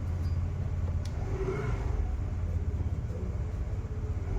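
A motorcycle engine with 40,000 km on it, started and left idling after clutch plate work, giving a close, loud, steady low rumble with a brief lift in revs midway.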